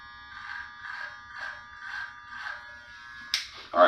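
Electric hair trimmers run in a steady buzz through a DIY bald head haircut and sideburn taper, pulsing in regular strokes about every half second as the blades pass over the scalp, then a sharper, louder burst near the end.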